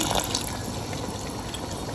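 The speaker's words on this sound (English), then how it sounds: "So you just add another glass of water, 2 glasses of water altogether." Water poured from a glass into a pan of sweet and sour sauce, a brief steady splashing pour heard up close, on its own without talk.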